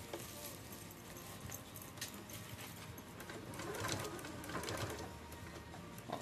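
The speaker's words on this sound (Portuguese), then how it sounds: "Vamos lá fazer aquela costurinha em X." A sewing machine runs steadily, stitching a cross-shaped seam on an insulated lunch bag, a continuous fast mechanical whir with faint rattling, moderately quiet and without speech.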